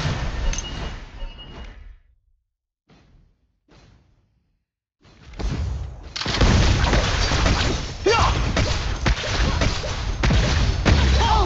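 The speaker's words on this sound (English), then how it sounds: "Your team has destroyed a tower." A tower explodes in Liên Quân Mobile with a heavy boom and crash, preceded by earlier game sounds and a near-silent gap, then dense loud battle noise and an announcer voice.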